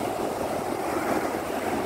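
Strong sea waves roll onto the shore at San Isidro, Ilocos Sur, a loud, continuous surf roar close by, with wind buffeting the microphone throughout.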